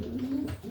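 A racing pigeon cock gives a single short, low, close coo.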